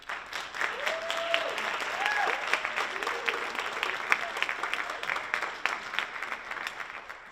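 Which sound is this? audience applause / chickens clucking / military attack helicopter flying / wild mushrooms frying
audience applause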